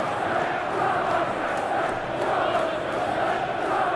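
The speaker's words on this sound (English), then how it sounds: "Well, the crowd clearly like what they just saw." A stadium crowd in the football game eFootball 2022, at a Chelsea versus Burnley Premier League match, roars in a steady, broad wash of cheering that holds at even loudness throughout.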